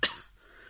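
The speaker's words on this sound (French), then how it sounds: "Je tousse toujours autant." A single short cough, sharp and close, followed by quiet room tone.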